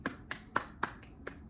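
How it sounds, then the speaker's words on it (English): Several separate hand claps, about six sharp slaps spaced unevenly at roughly a quarter-second apart, fairly quiet and close, with nothing else around them. "round of applause."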